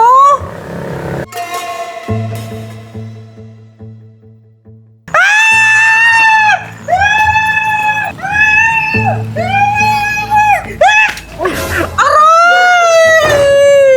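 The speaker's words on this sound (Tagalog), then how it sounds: "Ba't ka sumisigaw dyan?" A person screams in a series of loud, drawn-out, high-pitched wails with short breaks between them. Shouting voices are mixed in, and a lower droning tone runs underneath in the first half.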